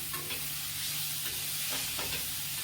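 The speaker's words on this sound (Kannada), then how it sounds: "ಈಗ ಬಾಣಲಿಗೆ ಹಾಕ್ಕೊಂಡು ಚೆನ್ನಾಗಿ ಮಿಕ್ಸ್ ಮಾಡ್ಕೊಳ್ಳೋಣ" Grated sour green mango stirred in a frying pan, giving a steady soft sizzle with faint scraping strokes of a spoon, close and continuous with no talking.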